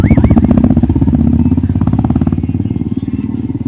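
A motorbike ridden in the Kodaikanal hills, its engine chugging steadily and loud up close with a rapid rhythmic pulse, holding throughout with no talk over it.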